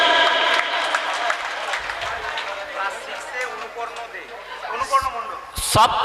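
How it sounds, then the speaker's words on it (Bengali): A school audience claps for a prize winner at a Teachers' Day celebration, with scattered applause and crowd noise mixed with voices, and a sharper burst of clapping at the end. "পৌলমীর জন্য জোরে একটা হাততালি।"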